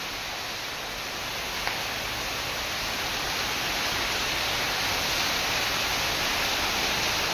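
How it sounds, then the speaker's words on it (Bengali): Heavy rain pours outdoors in a tree-lined hotel garden, a dense, steady, close wash of hissing noise that swells slightly over time, with no voices. "প্রচণ্ড বৃষ্টি হচ্ছে"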